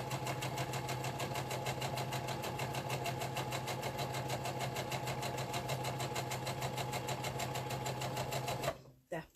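A sewing machine runs continuously and fast, chain stitching half-square triangles with an even, rapid mechanical rhythm, and stops abruptly near the end.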